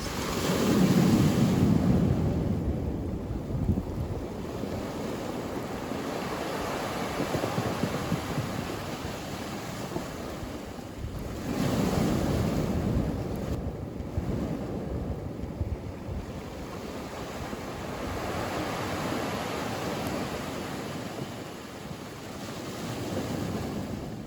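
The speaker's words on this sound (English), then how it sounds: "the invigorating stillness in between the murmur of slow breaking waves" Slow waves breaking along the shore of Pico Island in the Azores, a steady low surf rumble that swells and recedes in long washes, with wind buffeting the microphone and no voices.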